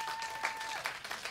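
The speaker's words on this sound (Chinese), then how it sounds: "给自己一个掌声好不好？" A festival audience applauds at an indigenous harvest celebration concert in Tiehua Village. The clapping is brief, steady and fairly faint, with a sustained tone running over it.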